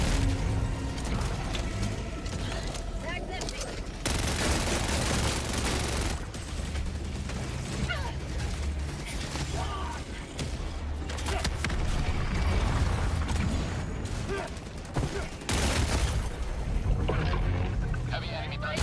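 Gunfire and battle noise in Helldivers 2, a dense, loud and continuous wash of shots, booms and mechanical clatter that runs throughout with only brief dips.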